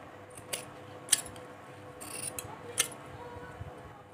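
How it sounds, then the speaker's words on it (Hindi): Scissors snipping through cloth at a sewing table, several sharp, close metallic cuts spaced apart over a quiet background. "ये वाला कपड़ा मैं काट दूंगी।"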